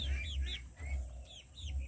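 Chickens clucking in a farmyard, with several short, faint clucks and chirps repeating near and far beneath a person speaking softly.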